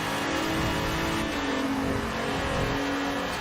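Nissan 300ZX engine in the racing game Forza Horizon 4, a steady sustained engine drone with a smoothly shifting pitch, as if holding speed under throttle, loud and continuous with no talk.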